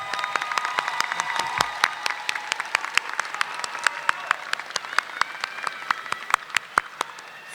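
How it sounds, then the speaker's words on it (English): A large crowd at a high school graduation rises in a standing ovation, with steady, dense applause and sharp individual claps standing out throughout, fairly close and continuous. "let's take the time to give our parents, our families, and our friends a standing ovation for all they've done for us these 12 years"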